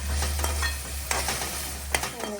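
Salted carrots and potatoes sizzle loudly in a pan, a dense close frying hiss broken by a few sharp stirring scrapes of a spoon.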